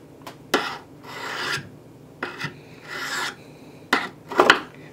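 EZE-LAP diamond rod sharpener rasping along a tool point braced against a tree outdoors, a series of separate dry filing strokes, some short and some drawn out, near and fairly loud, with no voices.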